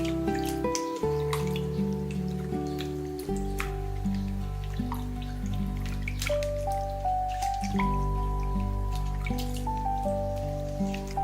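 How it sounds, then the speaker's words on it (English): Chicken feet are rinsed in water, with steady dripping, splashing and squishy handling sounds up close over a constant low hum and some faint tonal background music, and no talking. "After scrubbing, rinse them thoroughly, changing the water twice."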